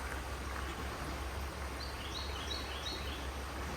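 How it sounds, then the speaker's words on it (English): Birds chirping outdoors near water, a few faint high tweets repeating in a short series over a quiet steady background. "Man, the birds are singing."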